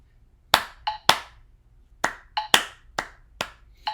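Hands clap a Mendelssohn rhythm in 6/8 meter: eight sharp, close claps in an uneven long-short pattern over a faint metronome hum, with no voices.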